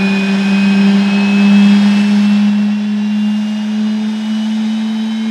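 A jet-powered truck roars loudly and steadily at a speedway thrill show, a continuous turbine howl with a high whine held for several seconds and no talk over it.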